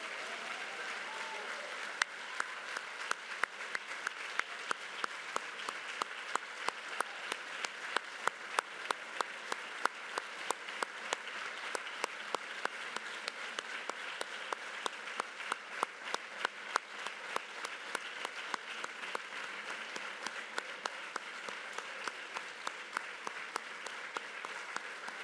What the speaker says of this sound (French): applaudissons les membres de l'Ordre national du Québec